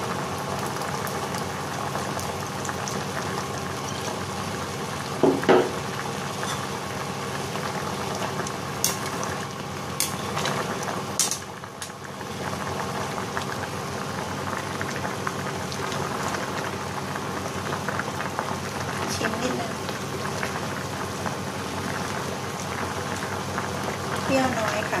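Pot of Thai tom yum soup with dory fish and shrimp at a steady rolling boil, a dense continuous bubbling hiss, with a few brief clinks partway through.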